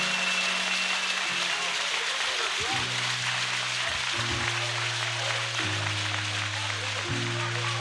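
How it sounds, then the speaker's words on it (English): Dense, loud applause at a pitching competition finals fills the room continuously, a hissing wash of many clapping hands, with a low tonal hum underneath. "Here's your applause."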